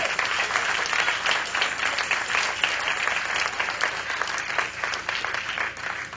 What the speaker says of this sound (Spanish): denle un aplauso fuerte al Rey de Gloria